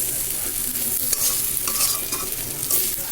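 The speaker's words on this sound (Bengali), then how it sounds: "ভালোভাবে আমি এখন মিক্স করে নিচ্ছি নুডলসটা দিয়ে।" Noodles stirred and fried in a pan, with a steady close hiss of sizzling oil under repeated scraping and tossing strokes of a utensil, continuous and fairly loud with no voices.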